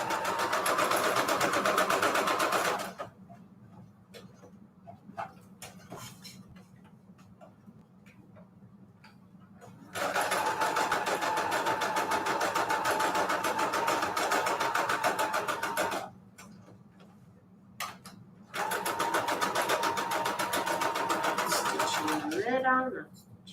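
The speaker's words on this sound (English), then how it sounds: "we're gonna straight stitch it together now." A sewing machine straight-stitches paper envelope pages for a junk journal in three loud, steady runs, with quiet pauses in between and a faint ticking of handling between bursts.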